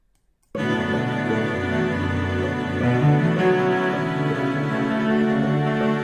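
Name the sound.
synth pad chords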